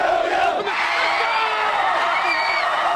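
A large crowd roars and cheers at a Class 6A-I high school football state championship at Chapman Stadium, Owasso against Union, a dense, loud sustained wall of shouting and whooping.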